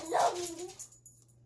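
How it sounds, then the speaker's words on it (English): Dog giving a single short, whimpering bark-like yip close to the microphone indoors, quickly fading to near silence with a faint hum behind. "My dog heard something and started barking."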